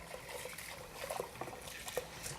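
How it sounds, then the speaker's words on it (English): Cold tap water runs from a kitchen sink into a bowl of fresh herbs, a faint soft trickle and splash with small irregular drips, quiet and heard alone. "I'm going to go ahead and fill this guy up with ice cold water right from the sink."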